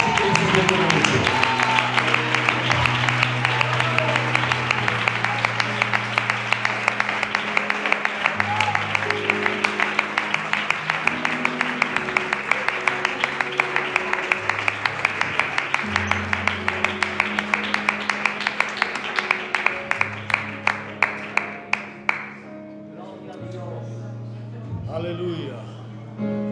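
A church congregation at a worship service claps in sustained, loud applause that carries on steadily for over twenty seconds before dying away, with voices faintly mixed in.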